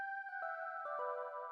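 An Omnisphere bell synth layer rings out alone in sustained, bright tones, with a few soft new note strikes layering over the lingering ring.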